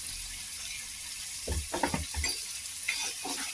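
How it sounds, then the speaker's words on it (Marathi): Onion, chilli and tomatoes sauté in a pan for a Maharashtrian veg thali, with a steady close sizzle and a few stirring scrapes, no talking. "टमाटे पण आपल्याला चांगले परतून घ्यायचे"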